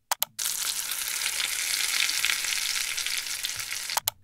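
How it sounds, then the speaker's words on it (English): Meat frying in a looping sound effect, a dense bright sizzle that starts after a couple of short clicks and holds steady, close and even, ending with another click. "So frying meat looping, that sounds like it could be promising."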